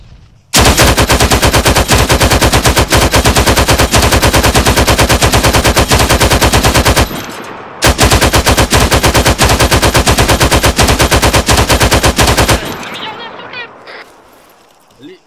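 A heavy machine gun firing in a video game, loud and close, in two long sustained bursts of rapid rhythmic shots separated by a brief pause, then fading.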